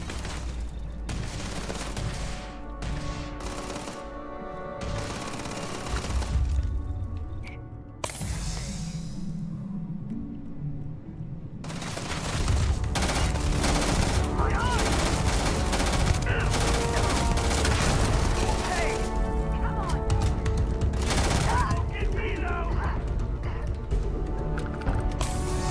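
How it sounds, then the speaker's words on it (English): Video-game gunfire in Starfield comes in repeated bursts, mid-distance and fairly loud, running through most of the stretch with a brief lull partway, set among busy game effects and music. "I'm getting all shot up."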